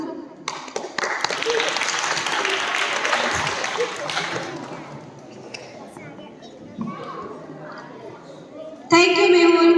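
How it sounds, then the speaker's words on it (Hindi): An audience claps at a school inter-house poetry recitation, a dense burst of applause that slowly thins out while children chatter and a voice speaks, then a loud sound cuts in near the end. "तो सभी की तालियों की जो आवाज़ है वो थोड़ा कम हो गई है"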